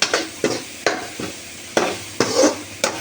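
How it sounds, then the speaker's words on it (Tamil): A spoon scrapes and stirs rasam in a pan on the stove, sharp strokes spaced about every half second over a faint sizzle, near and fairly loud, no voices. "இந்த மாதிரி ஒரு கிண்டி கிண்டி விட்டுறணும் லைட்டாக கிண்டி விடணும்"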